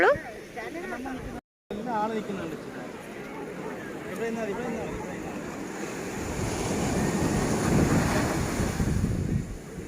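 Sea waves wash onto Azheekkal beach with a steady roar of surf and wind buffeting the microphone, swelling louder toward the end, while a voice talks over the water.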